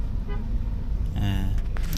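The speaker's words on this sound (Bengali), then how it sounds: "প্রচুর যানজট।" Heavy traffic jam on a road near Hatirjheel in Dhaka: steady low engine rumble of idling vehicles with a short horn toot near the end, a voice speaking over it.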